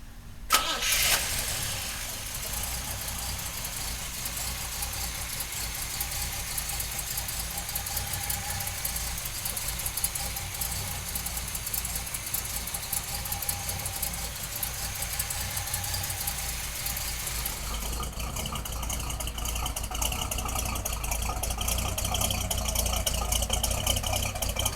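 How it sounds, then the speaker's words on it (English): A 1968 Chevrolet Chevelle big block engine cranks and fires, then settles into a loud, rumbling idle that holds for over twenty seconds, with a shift in tone near the end as it revs slightly. "So come on up and let's fire this big block up."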